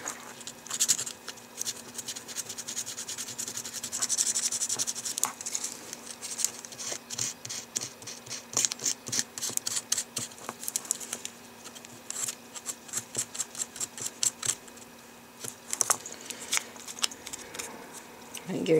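Folded sandpaper rubbing over the surface of a metal miniature, quick irregular scratchy strokes up close, continuous with short bursts and pauses.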